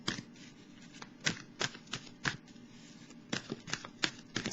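Tarot cards are cut and shuffled by hand: a close, quiet run of sharp papery snaps and riffles in irregular bursts.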